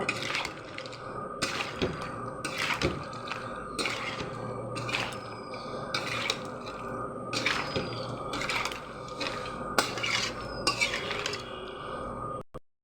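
A metal spoon stirs mutton and yogurt in a pot, with repeated clinks and scrapes against the pot's sides in a steady rhythm over a constant background hum. The clinks are close and fairly prominent, and no one speaks.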